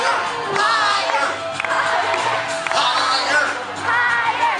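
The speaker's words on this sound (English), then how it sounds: "Let's have him out, folks. Let's start cheering." A crowd at a pool cheers and shouts for a high diver, with loud, rising whoops and overlapping voices in a steady wash that swells and dips in waves.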